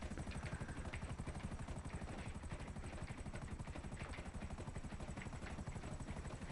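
A helicopter flies steadily in GTA Online, its rotor beating in a fast, even low throb that stays loud and close throughout, with a constant engine whine above it and no voices.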